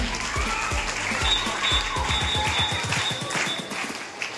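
At a Telangana Language Day celebration, an audience claps steadily and warmly to welcome guests onto the stage, a dense, even round of applause throughout.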